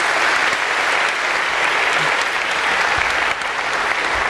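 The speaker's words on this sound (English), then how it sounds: "So perhaps a quick round of applause for Josh." A lecture-hall audience at a Harvard CS50 class bursts into sustained, dense applause, steady and loud throughout with no talking over it.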